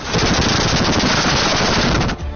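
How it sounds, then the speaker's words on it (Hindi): Anti-aircraft guns fire during a Chinese military drill in a rapid, loud, continuous automatic burst that ends abruptly with a brief tail. "एंटी एयरक्राफ्ट गने आग उगल रही"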